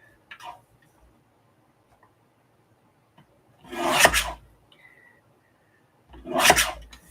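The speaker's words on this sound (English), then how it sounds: "So we're going to trim these down." Paper pieces for a journal being trimmed, heard as two loud rasping cuts a couple of seconds apart with quiet handling noise in between.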